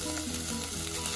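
Chicken pieces hit a pan of fried onion and garlic, raising a steady, dense sizzle that holds loud and close for the whole short moment with no voices.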